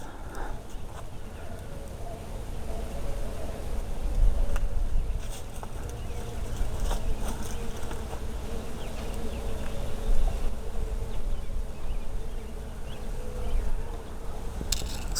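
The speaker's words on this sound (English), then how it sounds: "I don't know if you can hear the bees or not." Bees buzzing around a Manchurian apricot tree in full bloom in a large garden, a faint, steady hum under outdoor background noise, swelling slightly at moments.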